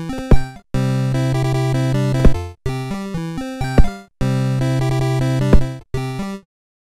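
Background music from a GameMaker platformer plays in loud melodic phrases as the player changes rooms, each phrase fading out into a brief silence before the next begins. The track ends in quiet.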